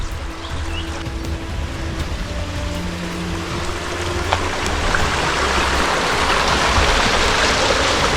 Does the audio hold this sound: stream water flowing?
yes